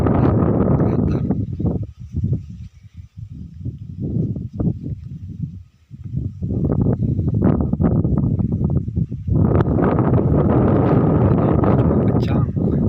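Strong wind roaring across a mountain trail on Gunung Artapela during the walk back down, a loud gusty rumble close on the microphone that briefly eases twice before surging back at full strength.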